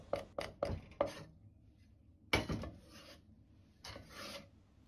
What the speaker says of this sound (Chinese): 再把辣椒改刀切碎， 這樣炒的時候才更好出辣椒的香味。